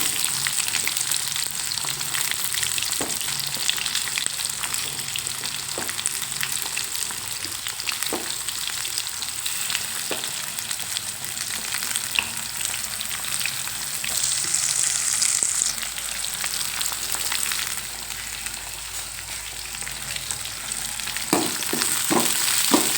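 Green chili and onion frying in a pan for a ground tomato sambar, a loud continuous sizzle with occasional scraping stirs and a faint high beep near the end.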